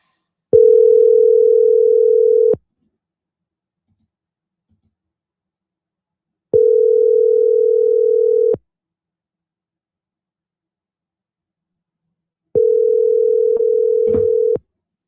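Outgoing telephone call ringback tone, three loud steady two-second tones separated by long silences, with a few clicks near the end.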